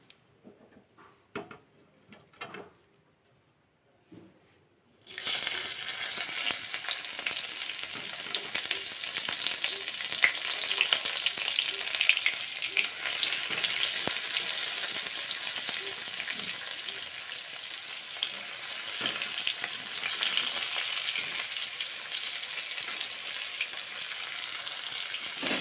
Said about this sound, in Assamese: পিঁয়াজখিনি দি দিওঁ